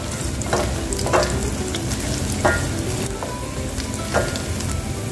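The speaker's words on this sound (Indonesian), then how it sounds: "untuk bumbunya tumis sampai benar-benar aromanya keluar ya teman-teman" Bumbu spice paste sautés in a pan for pindang ayam, a continuous loud sizzle and crackle with occasional stirring scrapes and spatters, no voices.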